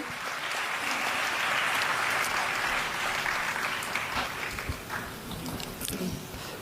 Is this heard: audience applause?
yes